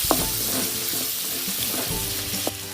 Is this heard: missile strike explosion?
no